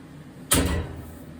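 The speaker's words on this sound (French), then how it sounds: "Et après on referme la porte." A pellet boiler door is shut with one sharp, close thud and a brief metallic rattle that fades within a fraction of a second against quiet room tone, with no talking.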